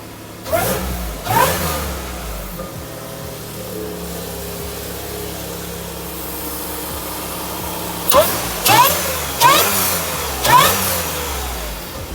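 A supercharged 2015 Toyota Sienna minivan's engine cranks to life and is blipped in four or five sharp revs, a steady idle humming in between, close and fairly loud.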